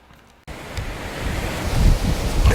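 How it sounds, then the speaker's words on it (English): Gusty wind buffets the microphone outdoors, starting abruptly after a moment of near silence and then roaring as a steady broadband rush that slowly grows louder, with stronger gusts near the end. "That blooming wind's up again."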